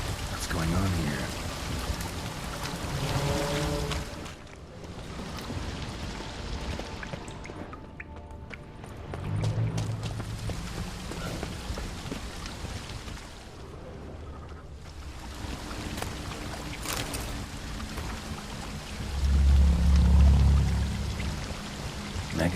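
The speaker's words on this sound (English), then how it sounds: "Is that stream flowing upwards?" Rushing water from a stream flowing upwards in The Witcher 3: Blood and Wine, a steady wash of flow swelling and fading in the foreground, with occasional speech over it.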